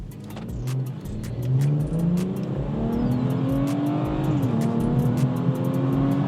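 A stock-tuned BMW 340i with the B58 engine accelerating hard in sport mode, its exhaust note climbing steadily through the revs with a brief dip at each jolting gear change, loud and close.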